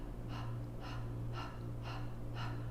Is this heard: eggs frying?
no